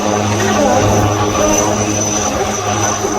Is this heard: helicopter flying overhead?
yes